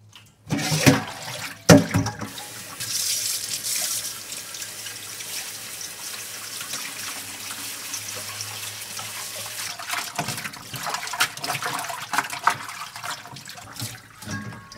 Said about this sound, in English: I don't have to really wash a lot, but still we gotta wash.